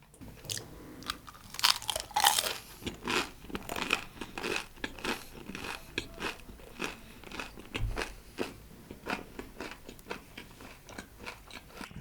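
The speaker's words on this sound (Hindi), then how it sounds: "Kurkure spring roll" Crunchy spring rolls from a street-side fast food corner are bitten and chewed up close, with repeated sharp crackling crunches in an uneven rhythm that runs throughout.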